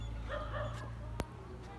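Dogs at a house give a few soft yips and whimpering barks at a distance, faint over a low steady hum, with a sharp knock partway through.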